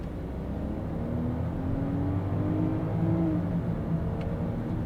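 A 2023 Range Rover P400SE, a heavy 400-horsepower SUV, accelerates with a steady engine drone that rises gradually in pitch, heard from inside the cabin with broad road rumble and no talking.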